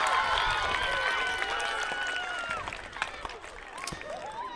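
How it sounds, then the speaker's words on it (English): A school assembly crowd claps in a dense burst of applause that gradually thins out into scattered claps and light chatter toward the end. "And now you're going to give an even louder round of applause"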